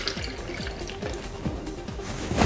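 Almond milk pours into a blender with a faint, steady liquid gurgle and splash, quiet and continuous for a couple of seconds.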